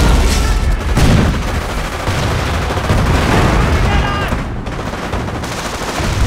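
Dense, continuous gunfire and rattling machine-gun bursts from a Company of Heroes: Tales of Valor battle at the Falaise Pocket, loud and close throughout, with a muffled voice briefly under the din.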